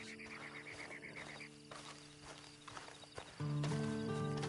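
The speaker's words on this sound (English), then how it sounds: "Then you better get on this horse." Horse hooves clip-clop steadily in the Red Dead Online video game, a rhythmic run of soft thuds with a faint whinny, set against a sustained musical drone that swells loudly near the end.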